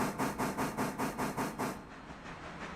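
Steam locomotive in the video game Railroader, chuffing in a steady rhythm of about eight even beats with a deep bass body and hissy top, then fading to a softer hiss and rumble.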